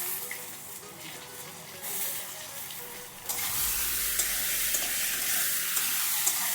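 Potatoes and tomatoes fry in a pan for a Bengali ridge gourd curry, giving a steady close sizzle that swells into a louder, brighter hiss partway through as the tomatoes go in. No one speaks.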